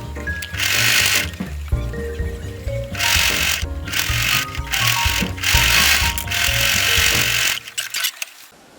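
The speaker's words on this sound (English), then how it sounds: "then we're going to top stitch it so that it doesn't twist around like this" A sewing machine top-stitches handbag straps in loud close bursts of rapid mechanical whirring, several runs separated by brief pauses, with no talk over it.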